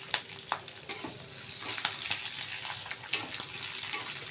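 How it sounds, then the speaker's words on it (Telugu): Garlic fries in a hot pan for a cucumber chutney, giving a quiet, steady close-up sizzle with light stirring taps and one sharper clink near the end, and no voices. "ఈ వేడికి ఆ వెల్లుల్లి వేగిపోతుందండి"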